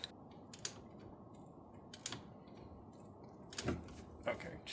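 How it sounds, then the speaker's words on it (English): A torque wrench ratchets and clicks on the brake bolts of a Subaru, a few sharp close clicks spaced out over a quiet workshop background. "Torque wrench. Let's do 40 for these as well."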